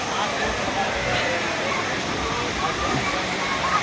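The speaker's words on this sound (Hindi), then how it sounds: "बिल्कुल ताज़ा पानी चल रहा है और ये नहाने की जगह है।" Flowing fresh water at the bathing area of Sozo water park in Lahore, a steady, loud, dense rushing wash with no breaks, close by.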